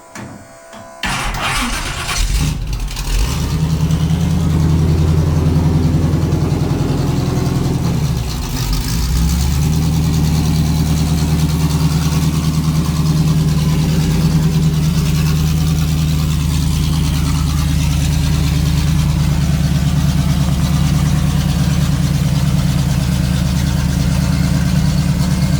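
A Jeep's engine runs steadily at a loud idle while the vehicle is backed out, a constant low rumble after a brief start-up burst, with no talking over it.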